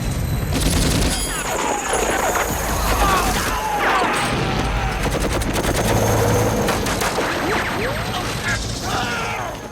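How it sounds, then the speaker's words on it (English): Heavy automatic gunfire and explosive crashes during a helicopter escape in the action film Rambo III, loud sustained bursts with mechanical clatter, shouted voices mixed in. "Troutman gunning down Russian enemies during the helicopter escape was trimmed."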